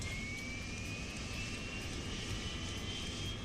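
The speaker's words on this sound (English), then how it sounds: "Then we'll listen to this beautiful APU start up." Airbus A350 auxiliary power unit spooling up in Microsoft Flight Simulator, a steady jet-like roar with a thin whine that slowly rises in pitch, continuous and alone.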